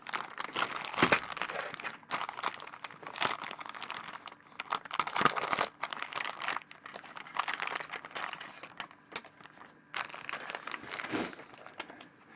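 Plastic bag holding model decals being cut open and handled, giving bursts of close, crisp crinkling and rustling with short pauses between, with no voices.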